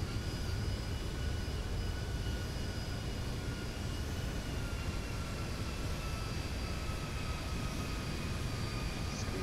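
A simulated airliner's engines on landing approach from San Francisco to Orange County, with full flaps and gear down, give a steady, loud, unbroken roar with faint high whining tones throughout and no voices.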